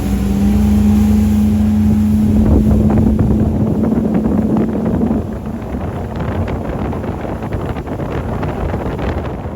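A normally aspirated 6.2-litre V8 boat engine rumbles steadily at a low pitch, then the tone shifts as it runs on, with wind noise rushing over the microphone throughout.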